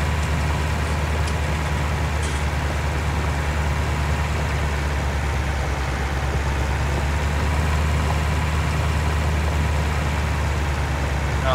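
A Massey Ferguson 277G tractor pulling a four-furrow plow through a field, its heavy diesel engine droning steadily and loudly close by with a constant low rumble and no letup.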